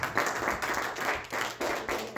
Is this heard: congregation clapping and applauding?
yes